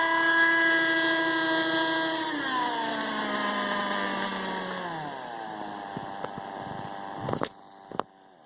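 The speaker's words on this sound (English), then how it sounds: "An old helicopter, but it flies really, really, really well." A small, older Kyosho Caliber 30 RC helicopter flying in windy weather, its steady high whining engine and rotor tone dropping in pitch as it slows, loud and continuous, with a couple of sharp knocks near the end.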